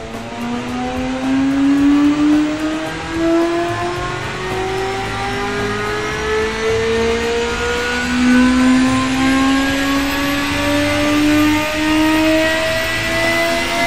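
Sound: 541cc twin-turbocharged V8 engine revving on dyno, Automation video game

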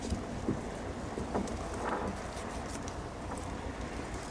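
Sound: Master 651 patrol boat with Mercury outboard engine

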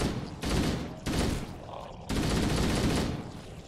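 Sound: enemy gunfire in video game Halo Combat Evolved

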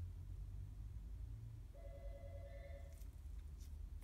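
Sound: outgoing phone call ringing through Apple CarPlay

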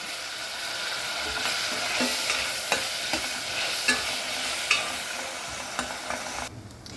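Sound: frying dried prawns in hot oil

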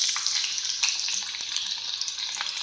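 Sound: cumin and green chillies sizzling in hot oil

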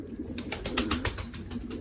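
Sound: homing pigeons cooing

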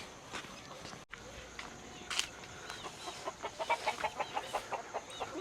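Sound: chickens clucking

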